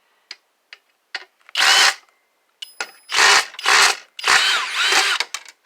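A power drill backs two screws out of a CPU cooler inside a computer tower being scrapped, with several loud whirring bursts of varied length, separated by small clicks and pauses.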